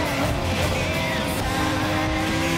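Race car engines from the video game Gran Turismo Sport drone steadily and loudly throughout, a dense sustained engine roar with a hint of tyre noise.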